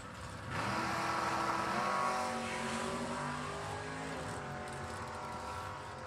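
Supercharged nitro funny cars, a blown 1969 Camaro and a 1963 Nova, roar at a drag strip in a loud, sustained engine blast that swells early and holds steady, slowly fading with distance.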